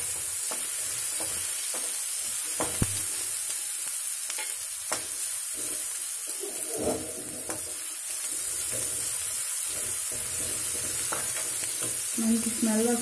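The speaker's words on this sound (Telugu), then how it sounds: "ఆనియన్స్ వేగాయి కదా, ఇప్పుడు అల్లం వెల్లుల్లి 1 స్పూన్ వేసుకుందాం" Ginger garlic paste frying with onions in a pan, a close, steady sizzle with occasional stirring scrapes and clinks running throughout, no speech.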